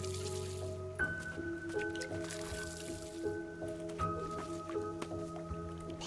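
Watering plants in the video game Guild Wars 2 brings soft, wet squishing and dripping effects, which recur in short bursts over steady game music with sustained tones.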